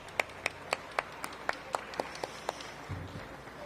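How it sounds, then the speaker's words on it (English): Sparse, evenly spaced hand claps, about a dozen sharp slaps at a steady rhythm, greet an honoree at a Latino Heritage Month celebration. They sound like only one or two people clapping nearby rather than a full crowd, then fade into quiet room tone. "Another round of applause for Edward Atuesta."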